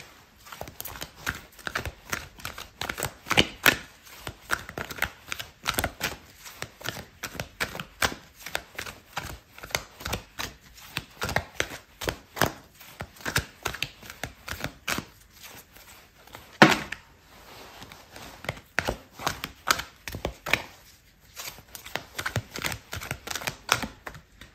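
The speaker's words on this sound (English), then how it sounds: "I'm going to pull out a card for your advice" Tarot cards being shuffled and pulled from a deck, with a long run of quick, dry card slaps and riffles that come in uneven bursts and sit close to the listener. Nobody speaks.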